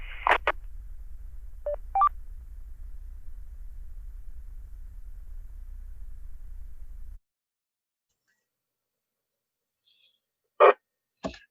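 A burst of DTMF tones is sent over a radio repeater to reset it, giving a few short keypad beeps over a low radio hiss. The carrier then drops to silence, and a couple of brief tone bursts follow near the end.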